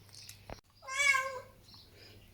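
A pet cat gives one clear, drawn-out meow in the middle, close and fairly loud, with a soft bump before it and quiet room hum around it.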